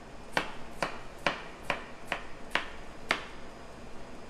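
A knife cuts a seedless watermelon into strips on a board, giving about seven sharp, evenly spaced chops, close and fairly quiet, with no talk.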